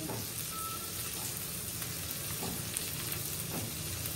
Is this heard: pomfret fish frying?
yes